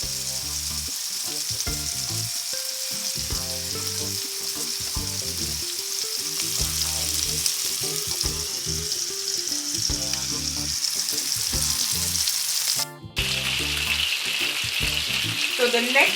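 Chicken sizzles and fries steadily in a pan for Jamaican curry chicken, a continuous close crackle with occasional stirring scrapes, no talking.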